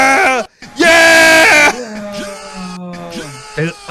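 A shrill, childlike scream from a woman in a wrestling crowd rings out loud and close, with a long sustained cry and shorter wails, while other voices yell around it.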